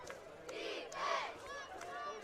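Shafter cheerleaders chant at a high school football semifinal against Firebaugh, their shouted, rising calls carrying over a faint crowd murmur in the stands.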